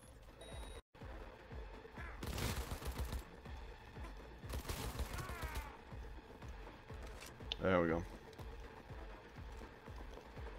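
Automatic turret gunfire rattles out in several short, loud bursts in the video game Cyberpunk 2077, mixed with game sounds and a player talking.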